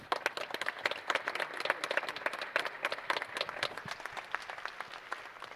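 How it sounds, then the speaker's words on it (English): An audience at an OKTAGON 72 MMA show and press conference claps steadily and loudly throughout, a dense wash of applause that never lets up. "it deserves a big round of applause"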